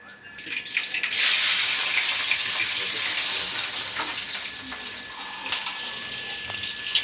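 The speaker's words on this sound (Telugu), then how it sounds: "ఆయిల్ వేడాక పోపు దినుసులు వేస్తా." Tempering spices hit hot oil in a home kitchen with a sudden loud sizzle, then a close, steady frying hiss that eases slightly while faint voices are heard.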